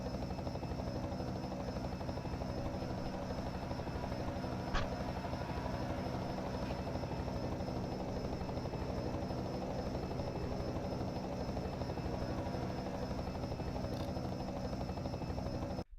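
A helicopter in a Hot Wheels racing video game gives off a steady, even rotor drone, constant and moderately loud, with a faint brief click partway through and no voices.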